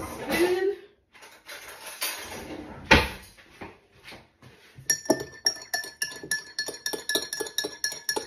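Cupboard and dish clatter comes first. Then a spoon stirs a seed-filled belly fat burner drink in a glass, making quick, repeated bright clinks close by.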